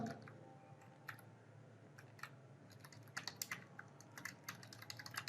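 Close, quiet clicks of C code being typed on a computer keyboard, uneven bursts of keystrokes growing busier toward the end over a low steady room hum.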